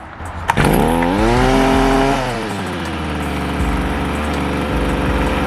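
Small engine, primed and choked, catching after a brief pull and roaring up loud, then settling into a steady close idle that keeps running throughout.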